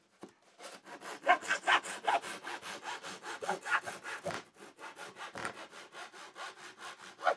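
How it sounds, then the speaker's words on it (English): A crosscut hand saw with many teeth rips through plywood in quick, rhythmic back-and-forth strokes, close and loud, each stroke a raspy burst, with no talk. "this strong crosscut tooth here with a lot of teeth, we can see that it makes very, very quick work of cutting through plywood"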